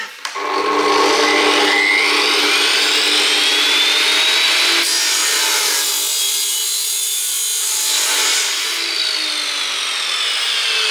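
A power saw cuts through a workpiece in a workshop, a loud steady high whine with a rising pitch sweep, running continuously for about ten seconds.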